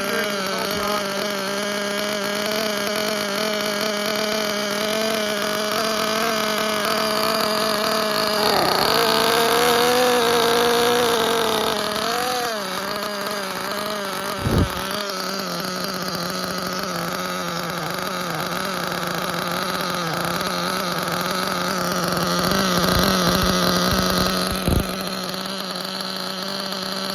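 A small engine runs through its first break-in tank of fuel in cold weather, a loud steady close drone with wavering pitch and a few revs rising and falling, no talking.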